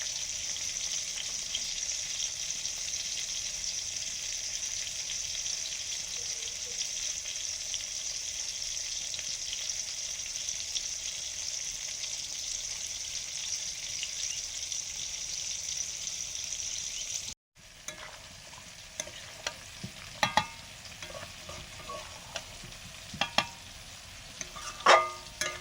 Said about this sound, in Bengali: আগে মিষ্টি কুমড়োটা ভাজছি, তারপরে আলু বেগুন সব পরপর ভেজে নেব।